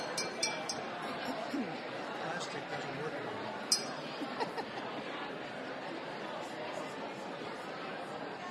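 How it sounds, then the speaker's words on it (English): Glasses clink in a few bright, scattered taps over a steady hum of chatter and soft laughter from a group of people. "can you do some more clinking for me?"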